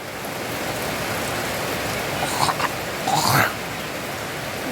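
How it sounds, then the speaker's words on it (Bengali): Heavy rain pours down in a dense, steady hiss, with a couple of short voice sounds rising briefly above the downpour. "এই যে দারুণ বৃষ্টি হচ্ছে"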